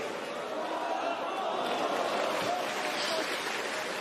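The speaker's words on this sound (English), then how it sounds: "Crowd getting involved early." Snooker crowd at the Shanghai Masters stirring in reaction to a shot, a steady rushing murmur of many voices and movement that stays fairly even throughout.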